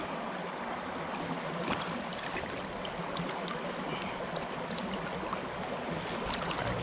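A Pennsylvania trout stream flows with a soft, steady rushing wash, quiet and constant, with faint higher trickles scattered through it and no talking.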